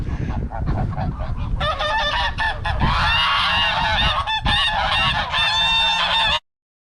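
A flock of geese honks loudly and continuously nearby, many overlapping calls blending into a raucous chorus that ends abruptly.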